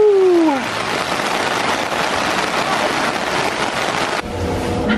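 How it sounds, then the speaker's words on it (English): Dense, steady hiss of heavy rain pouring down nearby in a rainforest, continuous throughout, with a brief tonal whine fading at the start. "See, we still go on ventures even in crazy rain."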